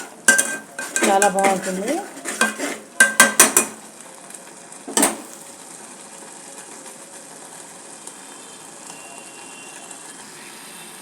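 A spoon scrapes and clinks in a pan while masala for a clay-pot chicken gravy is stirred and fried, with several loud metallic bursts early on, then a single clank, before the sound fades to a low quiet hiss.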